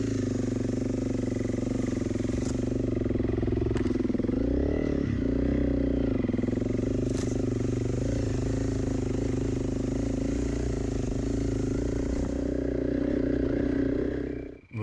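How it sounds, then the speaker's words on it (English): A Honda CRF 300 Rally dual-sport motorcycle pulls away uphill in second gear on a wet, boggy trail, its engine holding a steady, easy, close-up drone for the full stretch before cutting off abruptly at the end. "this is a little 300 rally, taking off uphill in second gear and doing it easy"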